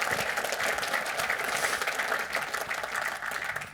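An audience at a company's annual general meeting breaks into applause, a fairly loud, continuous patter of many hands clapping that fades slightly toward the end.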